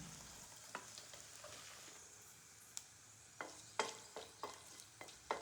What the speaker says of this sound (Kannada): ಸ್ಪೈಸಸ್ನ ಇನ್ನೊಂದು ಸ್ವಲ್ಪ ಹಾಕ್ಕೊಂಡು ಸ್ವಲ್ಪ ಘಮ ಬರೋವರೆಗೂ ಅದನ್ನ ಫ್ರೈ ಮಾಡ್ಕೊಳ್ಬೇಕು